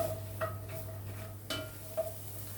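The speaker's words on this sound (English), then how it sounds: "I'm going to give that a stir around and just let that sweat down for about 5 minutes" Diced vegetables for a Bolognese sofrito sweat in a pan and get stirred, giving a soft steady sizzle broken by a few light scrapes and clinks of the spoon.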